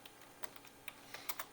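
Several light computer keyboard key presses click at an uneven pace, faint and close, with a quick double tap near the end.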